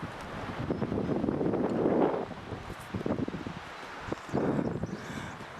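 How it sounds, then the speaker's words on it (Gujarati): Strong mountain wind gusts on the route to Kailash Mansarovar, buffeting the microphone in loud, rough surges that swell, briefly drop, and return, with no talking. "તમને અવાજ આવતો હશે હવાનો"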